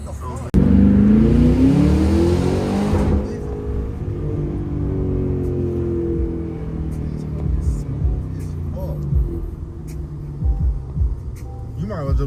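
A supercharged Cadillac Escalade V fitted with a ZL1 engine accelerates hard, its loud engine note climbing in a rising roar before settling into a steady drone, with a voice talking over it near the end.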